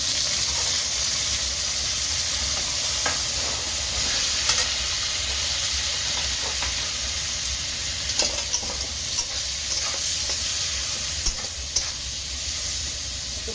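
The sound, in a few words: onions and green chilies frying in a pan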